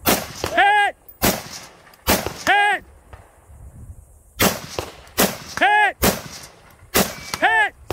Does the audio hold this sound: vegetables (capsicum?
no